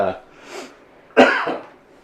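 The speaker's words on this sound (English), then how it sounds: "want this cough to go away" One sharp cough bursts out close by, with a brief breathy sound just before it and a softer trailing catch after.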